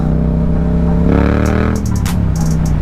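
Honda CBR650R sport motorcycle engine running steadily while riding, loud and close, with the pitch rising briefly as it revs before settling, plus some wind and road noise.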